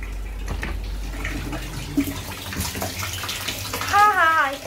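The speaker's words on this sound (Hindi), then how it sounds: "देखते हैं हमारा पानी कितना भरा है।" Water runs continuously into a tub being filled for a home foot spa, a close, steady gushing with a brief whistling tone near the end.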